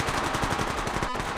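Rapid automatic gunfire in the battle royale shooter Apex Legends, a dense, loud burst of evenly spaced shots that runs through most of the moment and ends with a single sharper crack.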